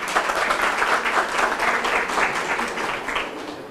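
Sustained audience applause at an HR summit fills the room, a dense, steady wash of many hands clapping at even loudness throughout with no voices over it.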